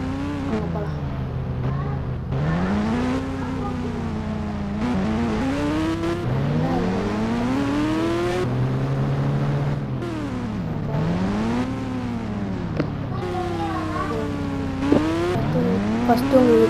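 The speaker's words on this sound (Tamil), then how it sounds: "சரி வாங்க மறுபடியும் வண்டி எடுத்துகிட்டு போவோம்." A vehicle pulls away and accelerates, its engine pitch climbing, dropping and climbing again through repeated gear changes, loud and close for the whole stretch.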